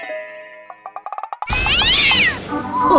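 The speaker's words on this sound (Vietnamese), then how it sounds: "Ôi con mèo tội nghiệp." A cat meows loudly and drawn-out after a quick run of tinkling chime-like dings, its wavering cry rising and falling over a second or more, close and clear.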